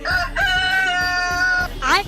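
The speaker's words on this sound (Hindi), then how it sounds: "एक मुर्गा बोल रहा था" A cartoon rooster crows loudly and close, one long drawn-out cock-a-doodle-doo with a short lead-in call and a rising squawk at the end.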